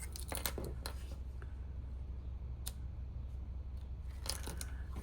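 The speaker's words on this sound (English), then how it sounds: "I'm gonna have to trim. So let me get my ribbon scissor." Ribbon scissors cut ribbon with a few crisp, close snips, a quick cluster at the start, one in the middle and a couple more near the end, all quiet and separated by low background hum.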